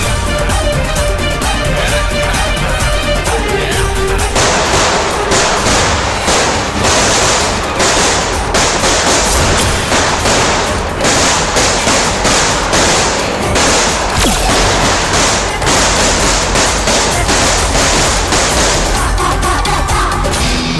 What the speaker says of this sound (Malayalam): പടക്കത്തിന് തീ കൊളുത്ത്.